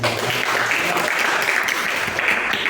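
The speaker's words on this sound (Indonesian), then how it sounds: "tepuk tangan untuk Devi." A group claps together in a brief, steady burst of applause, with a voice faintly mixed in.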